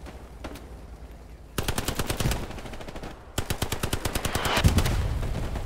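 A machine gun in the video game Hell Let Loose fires two long, steady bursts of rapid shots, loud and close, separated by a short pause after a few scattered earlier shots.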